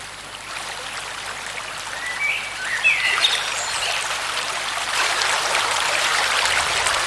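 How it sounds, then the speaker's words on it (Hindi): Steady flowing water trickles through a forest stream while birds chirp and call intermittently above it, the water's hiss continuous and moderately loud, with no voices. "कहीं पानी की आवाज सुनाई दे रही है तो कहीं चिड़ियों का कलकलाहट।"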